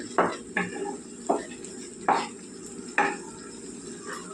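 Eggplant and cucumber curry with tomatoes being stirred in a pot, a spoon scraping and knocking against the pot in five or six separate strokes over a soft, steady cooking hiss.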